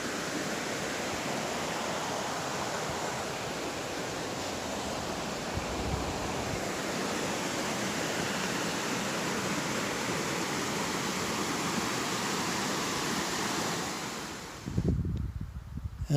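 The Dead River in Michigan's Upper Peninsula, a constant broad rushing of flowing water heard from above, steady and unbroken with some wind, ending in a brief handling bump.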